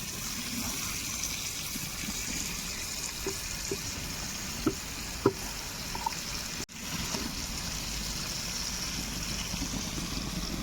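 Dried fish (karivadu) frying in a pan, a steady close sizzle with scattered crackles and pops throughout, briefly disturbed by a single clunk partway through, with no talking.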